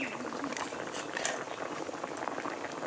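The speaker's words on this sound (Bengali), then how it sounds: "ওদিকে ডিমটা সেদ্ধ হতে থাক" Fish roe boils in a pot with a dense, faint bubbling and seething of water, steady throughout, heard from close by.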